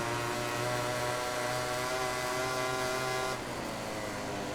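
A racing motorcycle on the Phillip Island circuit in the video game MotoGP 2018 holds a loud, steady, high engine drone, with a slight shift in pitch near the end and other bikes around it.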